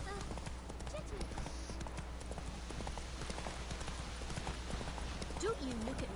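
Horse hooves clip-clopping at a walk through a town in The Witcher 3: Wild Hunt, a steady, close rhythm of hoofbeats with a short whinny near the end and game ambience underneath.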